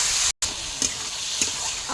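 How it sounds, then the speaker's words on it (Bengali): Spice paste of dried and green chilli, salt and turmeric with a splash of water frying with potatoes in a pan for a rui fish recipe, steady hissing sizzle with a few scraping stirs, close and continuous after a brief cut. "ভালো করে নাড়াচাড়া করে নেবো।"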